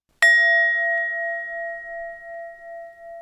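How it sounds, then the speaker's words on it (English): A meditation bell is struck once, close and clear. Its pure ringing tone decays slowly with a gentle pulsing shimmer over several seconds of otherwise silent room. "And then we wind it all up with a bell."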